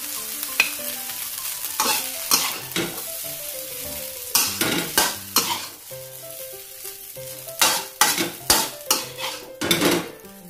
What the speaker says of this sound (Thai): ตักใส่จานค่ะ